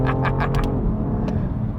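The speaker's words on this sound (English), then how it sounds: "You get a lovely bit of induction noise, you get loads of exhaust noise" A BMW F80 M3 engine revving, with induction and exhaust noise: several quick throttle blips with crackling bursts, then a sustained deep engine note settling to a steady drone, close and loud.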